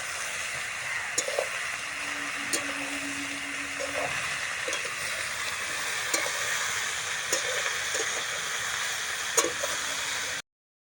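Bottle gourd with fish head frying with salt in a pan, a continuous moderate sizzle with occasional sharp clicks of a spatula against the pan, no voices.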